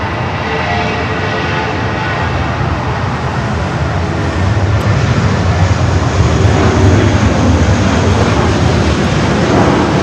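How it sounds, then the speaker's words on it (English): A United Airbus A320 in the older livery rolls down runway 24 left at LAX, its jet engines giving a loud, continuous roar that swells slightly partway through and holds steady and close. "Now we got a United A320, the older livery, rolling down the 24 left"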